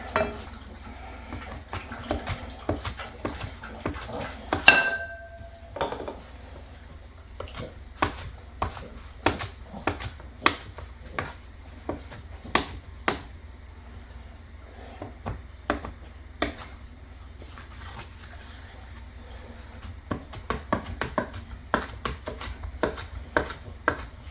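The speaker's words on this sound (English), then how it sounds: "chop up some baby kale because it's gotta have kale in it" Baby kale being chopped with a knife on a homemade cutting board, a steady run of sharp, close knocks spread across the whole stretch, with short pauses and a brief clatter near the start.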